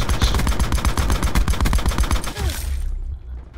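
Rapid bursts of automatic gunfire from the Black Ops video game rattle loud and close for about two and a half seconds, then stop abruptly and leave a fading low rumble.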